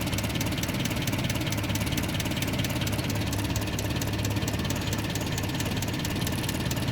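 A Land Rover Series 3 109 engine runs steadily at idle, a continuous low mechanical rumble with even knocking texture, close and alone for the full seven seconds.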